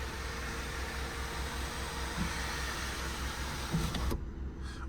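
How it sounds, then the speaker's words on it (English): The electric sunroof motor on a 2014 Mini Cooper three-door whirs steadily and faintly over a car cabin hum, then cuts off with a soft click near the end. "Now to open the sunroof is very, very easy."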